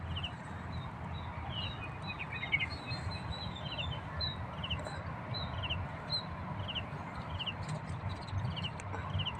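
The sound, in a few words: birds singing in nature near a house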